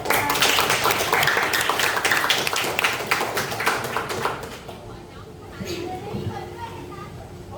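High school classroom in Indonesia bursting into dense, lively applause for several seconds, then fading out as a teacher's voice and light chatter continue.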